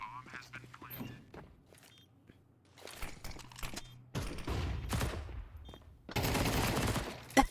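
Two rapid, loud bursts of MP9 submachine gun fire in a competitive match, the second longer and denser, following quieter stretches of scattered shots and footsteps.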